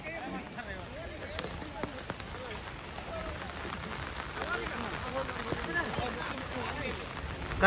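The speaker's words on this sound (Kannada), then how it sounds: "ಏನ್ರಿ ಮಳೆ ಬಂತಲ್ಲ?" Rain falls steadily on surfaces at an outdoor Kambala buffalo race event in Kadri, a soft continuous patter with scattered louder drops, heard faintly under nearby talk.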